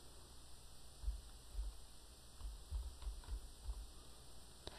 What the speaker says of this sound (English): I can simply type NOTEPAD.